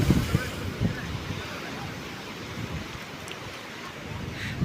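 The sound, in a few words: rough sea waves at Gadani Beach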